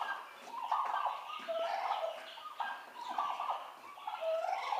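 Turkeys, including males, calling on a farm where a turkey hen is laying, giving a steady run of close gobbling and warbling calls with no one speaking.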